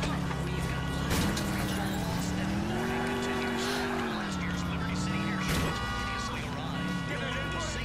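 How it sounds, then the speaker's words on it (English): Grand Theft Auto IV city traffic: a steady, loud car engine drones throughout with rising and falling pitch, with sharp crash or impact bursts near the start and middle. "Not that you can hear much of it over the goddamn... traffic and the crashing and the metal clang against metal and the horns."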